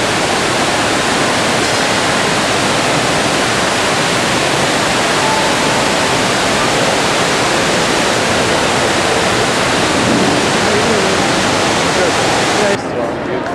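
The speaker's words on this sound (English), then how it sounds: "50-foot indoor waterfall" A 50-foot indoor waterfall inside a Connecticut casino produces a loud, dense, unbroken roar of crashing water, heard up close and steady throughout.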